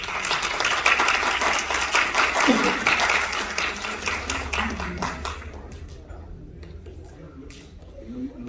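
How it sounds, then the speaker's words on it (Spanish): Audience applause at a political talk in a hall, a steady burst of clapping lasting several seconds that fades out, followed by quieter room noise and faint shuffling. "Le damos un fuerte aplauso, por favor."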